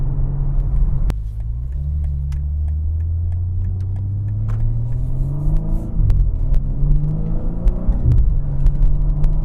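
A BMW G82 M4 Competition xDrive sports exhaust rumbling and revving up, deep throbbing engine tone rising and falling in pitch several times, loud and close.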